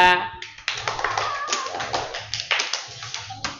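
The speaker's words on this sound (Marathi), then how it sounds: "पार जिंकला. टाळ्या." Students playing a classroom game clap together in a loose burst of sharp, uneven hand claps, close and fairly loud, continuing in quick clusters.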